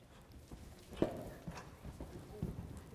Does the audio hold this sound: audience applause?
no